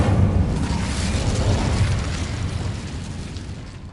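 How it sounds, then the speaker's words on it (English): Incendio fire spell cast in Hogwarts Legacy on PS5, a loud roaring whoosh of flame that bursts at once and then slowly fades over a few seconds. "Incendio."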